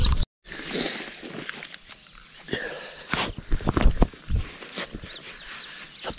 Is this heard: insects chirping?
yes